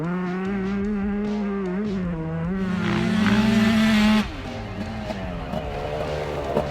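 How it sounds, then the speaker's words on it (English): Tuned 2023 Yamaha YZ125 two-stroke motocross bike accelerating out of a tight hairpin, a close buzzing engine note climbing in pitch as the throttle opens, with shifts in tone mid-run. "On the gas out of the tight hairpin there, just a handful of corners left to go for Matt Ridgway then"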